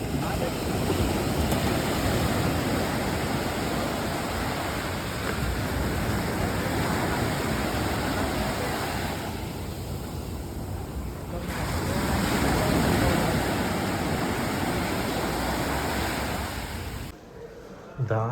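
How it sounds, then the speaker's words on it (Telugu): Sea waves washing onto a shore in cool wind, a continuous roar of surf with swelling and easing surges, heavy wind rumble on the microphone throughout and a brief drop near the end. "ప్రశాంతంగా చల్ల గాలి, అలలు"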